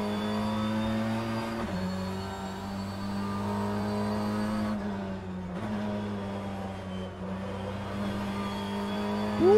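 A BTCC touring car in a sim racing game holds a steady, loud engine drone with a brief gear-change dip partway through, then the note resumes evenly.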